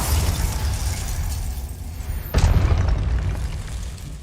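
A combat spell blast explodes in the Hogwarts Legacy video game as a single sharp boom that bursts out midway and rings on over steady game rumble, loud and close with no talk.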